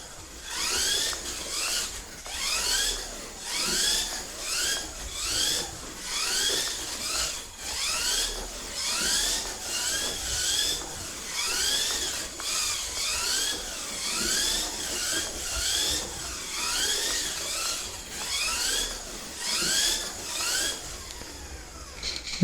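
A Kyosho Mini-Z Nissan GT-R 2008 Super GT RC car buzzes around an indoor track, its small electric motor whining up and down in repeated rising sweeps as it accelerates and brakes through laps, fairly faint, with no voices.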